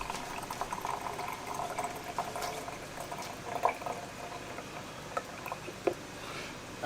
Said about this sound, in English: what I'm just going to do is pour some water in here